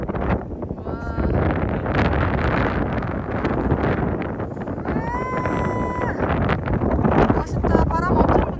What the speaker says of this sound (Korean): 정상에 올라와서 기분이 아주 좋지만 아주 강풍이 부네요 지금